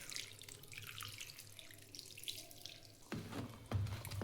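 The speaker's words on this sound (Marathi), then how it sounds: "पाणी टाकायचं आहे अर्धा ग्लास." Water poured from a glass into flour for onion-coriander dhapate dough, a quiet gurgling trickle that grows louder and splashier toward the end.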